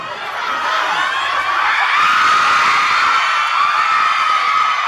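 A crowd cheers and shouts at a children's party game, children's voices mixed with whoops and sustained excited yelling, loud and continuous throughout.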